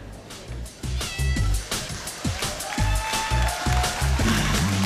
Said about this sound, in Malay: Cikgu, kenapa kucing ni?